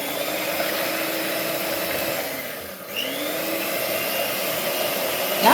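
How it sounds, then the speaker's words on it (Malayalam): Electric hand mixer beating vanilla sponge cake batter, a loud continuous motor whine that dips briefly midway and then picks up again, running alone without voices. "അപ്പോൾ നമുക്കിത് നന്നായിട്ട് ബീറ്റ് ചെയ്യാം. അപ്പോൾ ആദ്യം ലോ സ്പീഡിലും പിന്നീട് ഫുൾ സ്പീഡിലുമാണ് ഇടുന്നത്."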